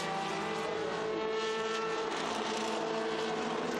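A historic Lola T600 race car runs at Estoril, its engine giving a loud, sustained roar with steady harmonic tones across the whole stretch.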